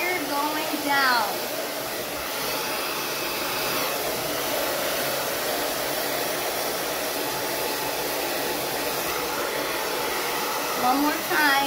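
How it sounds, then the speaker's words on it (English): A hair dryer blows curly hair straight with a constant loud whoosh, with a few faint brushing sounds over the steady airflow. "The blow dryer going down."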